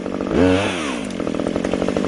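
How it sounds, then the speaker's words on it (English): A Husqvarna backpack clearing saw cuts undergrowth during forest thinning, its engine revving up loudly then holding a steady, close buzzing whine throughout. "Again, the backpack chainsaw's reach is an advantage, since it saves steps in the stand of trees."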